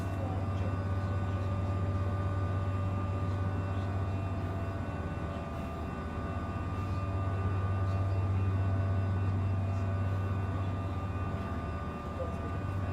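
Steady low engine drone fills an E-175 airliner cabin in a flight simulator game, a constant hum with faint tonal whine, continuous and even throughout with no talking.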